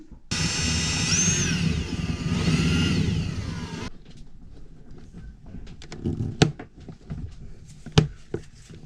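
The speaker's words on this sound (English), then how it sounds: "I just have to drill a hole through here" A power drill boring a hole for a cable aboard a sailboat, whining loudly and steadily for about three and a half seconds with pitch dips, then stopping, followed by clattering, handling knocks and scattered thuds.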